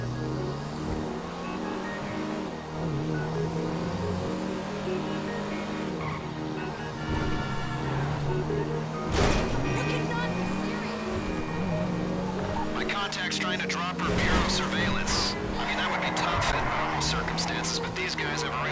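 An old car driven in GTA V Online, engine droning with tire squeals and skids, and a burst of crashing clatter mid-run, under constant game noise.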